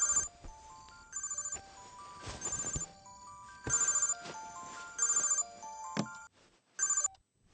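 Telephone ringing in a Telugu movie scene from the film Leader, a repeated electronic ringtone sounding in short bursts with brief gaps, fairly clear and close, with other faint sounds between rings.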